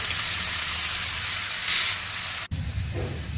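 Mushrooms drop into a hot pan while cooking for a mushroom gravy, giving a loud, steady hiss of sizzling steam that breaks off sharply for an instant and then resumes more softly.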